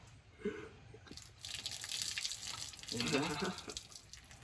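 Water trickles and splashes from a tap or bottle, rinsing pepper spray from eyes, rising and falling in bursts, with a voice speaking briefly near the start.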